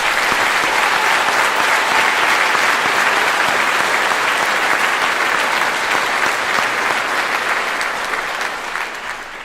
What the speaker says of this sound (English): help me give him a round of applause